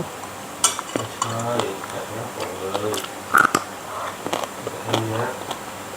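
Coconut milk being stir-fried in a pan, with scattered clinks and scrapes of a utensil against the pan and a faint sizzle, under a person talking.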